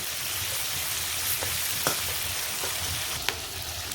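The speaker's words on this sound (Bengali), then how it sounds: "এই পাশে যে তেল গরম হয়ে গেছে আর মাংস একটা একটা করে সাইডে দিই" Meat sizzles steadily in hot oil in a pan, a close, continuous frying hiss with occasional faint clinks of utensils.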